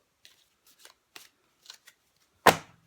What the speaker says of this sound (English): let's do a shuffle like this so I don't end up dropping the whole pack on the floor